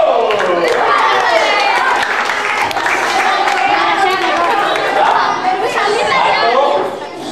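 Children at an elementary school grade six retreat clap together in a dense, steady burst, mixed with lively chatter and shouting voices that continue throughout.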